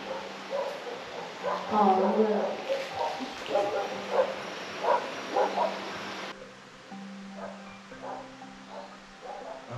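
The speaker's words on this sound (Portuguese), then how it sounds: "os cachorros estão lá fora" Dogs bark and yip in the distance outdoors near an abandoned house, the short barks scattered over about ten seconds while people talk over them.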